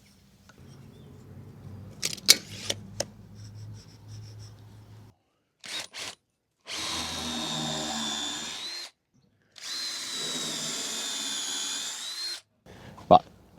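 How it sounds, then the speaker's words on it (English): Power drill boring holes in wooden sleepers for a raised vegetable bed, two sustained close whirring runs of a few seconds each after some knocks and handling clatter, no talking. "So I'm going to get marked out again and get those holes drilled."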